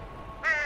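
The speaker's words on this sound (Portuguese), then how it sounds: "Olha o corvo!" A crow in the video game Unravel lets out a single harsh, loud caw at the very end, after a moment of quiet ambient background.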